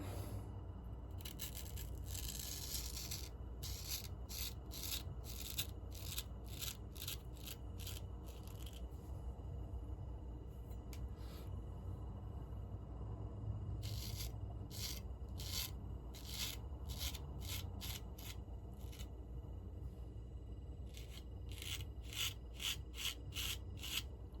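A Ralph Aust straight razor scrapes across stubble in a close, quiet shave, making bursts of short crisp rasping strokes in irregular runs with pauses between.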